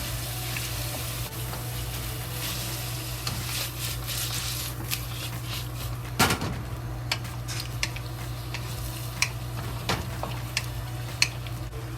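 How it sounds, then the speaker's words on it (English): Lamb sizzling and frying steadily in a pan for green onion stir-fry, a constant crackling hiss with occasional sharp clicks and taps from stirring utensils against the pan, close and alone without talk. "Just fry until the lamb's color changes to white."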